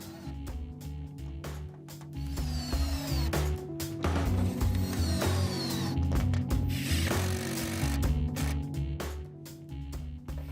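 A cordless power driver whirs in several bursts, driving screws into corrugated Tuftex polycarbonate greenhouse panels, with the motor pitch stepping up and down and rattling clicks close by.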